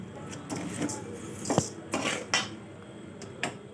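Roasted ingredients for laddu being tipped from the pan into another vessel, with a few sharp metallic clinks and scrapes of utensils against the pots over a low background, no speech.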